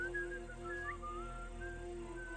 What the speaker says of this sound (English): Wait, somebody's whistling back at me.